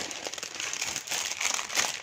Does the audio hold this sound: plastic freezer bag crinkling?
yes